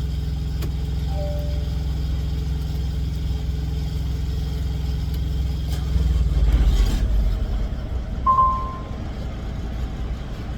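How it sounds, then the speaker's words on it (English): Thermo King TriPac APU engine idling outside a truck, a steady low mechanical drone like a small dirt bike engine, heard from a short distance; around the midpoint it winds down and shuts off, leaving a quieter hum with a brief tonal chirp. "Sounds like a little dirt bike engine."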